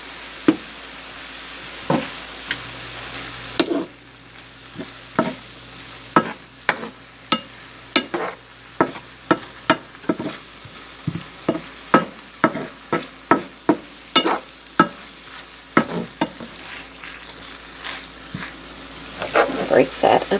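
Chicken frying in a pan with a steady sizzle, broken by repeated sharp scrapes and clanks as it is shaken and stirred, the hits coming close and irregular and quickening toward the end.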